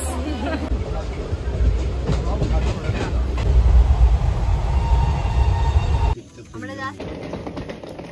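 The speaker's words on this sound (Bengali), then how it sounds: "এদিকে আমাদের ট্রেনও চলে এসছে" A passenger train pulls into a station with a loud, continuous rumble and the clatter of wheels. Voices murmur beneath the noise until it drops off sharply near the end.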